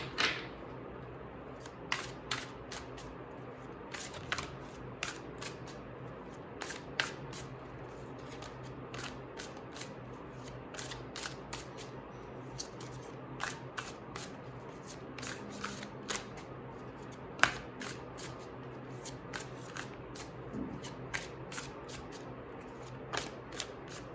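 Tarot cards are shuffled over and over, giving a steady run of soft riffling clicks and quick papery flutters, close and fairly quiet, with no talking.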